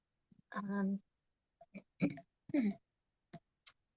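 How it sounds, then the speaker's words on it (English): A short throat clearing followed by a few brief vocal noises and small clicks, close and quiet with silence between them. "Excuse me, clearing my throat."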